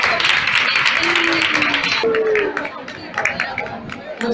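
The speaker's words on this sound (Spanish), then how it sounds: "un aplauso para todas vosotras" Applause for a group of women at a community gathering, clapping and cheering from a crowd mixed with lively chatter, loud at first and then thinning into scattered claps and murmurs.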